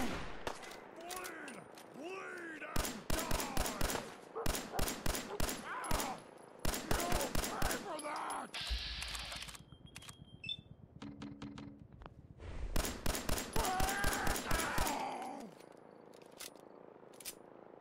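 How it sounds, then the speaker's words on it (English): Gunshots ring out in Fallout 4 in repeated loud rapid volleys, broken by brief pauses and clinking pickup sounds, with a voice talking now and then. "I should aim more carefully. As I whiff more shots."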